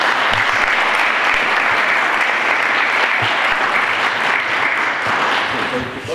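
Loud, dense applause from a crowd at a farewell event for local politicians in Frankenau, clapping for a couple and sustained steadily for about six seconds before easing slightly at the end.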